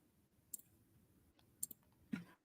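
A faulty keyboard key clicks on its own, giving a few sharp, isolated clicks spaced about a second apart in an otherwise quiet room.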